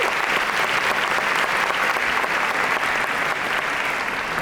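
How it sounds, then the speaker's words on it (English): Conference audience of educators applauding, a dense sustained wash of many hands clapping at moderate volume, continuous from start to finish with no voices standing out. "Give yourselves a round of applause"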